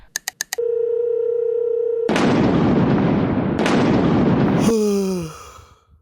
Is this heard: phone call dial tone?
yes